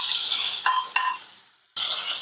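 Soybean chunks are stirred in hot mustard oil in a kadai: a bright sizzle with two scraping knocks of the spoon. The frying fades to a brief quiet, then the sizzle returns.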